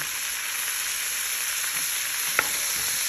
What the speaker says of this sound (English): hot enough to where they're sizzling, where they're talking to you